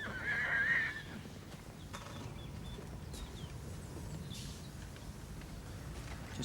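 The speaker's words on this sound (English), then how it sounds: "It's a horse." A horse whinnies once, fairly loud, then quiet outdoor ambience continues with faint distant sounds.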